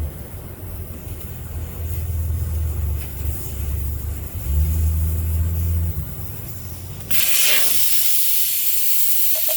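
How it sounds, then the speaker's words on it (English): Air hisses steadily out of a tire on a 2003 Ford Escape with the valve stem removed, mixed with low rumbling noise, then shifts to a sharper, brighter hiss for the last couple of seconds. "let's roll this tire around back while it's deflating."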